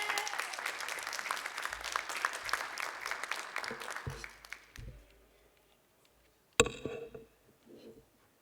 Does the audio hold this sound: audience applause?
yes